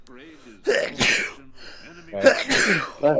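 A sneeze bursts out during a 2v2 StarCraft 2 match, close and loud, with people talking over and around it.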